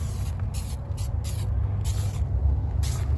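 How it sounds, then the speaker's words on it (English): Several short bursts of aerosol adhesion promoter hiss in a broken rhythm onto a car during paint repair, over a steady low engine-like rumble, sprayed close at hand. "So I'm just gonna spray a light coat of this adhesion promoter."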